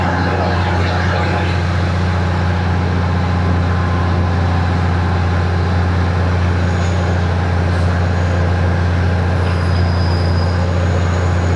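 A passenger train on an elevated line between Bangkok and Ayutthaya rumbles loudly and steadily throughout, with a deep continuous drone, rattling carriages and faint squeals of the wheels.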